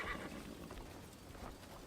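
A horse in the Crimson Desert video game gives a brief, faint whinny at the start, followed by soft hoof clops.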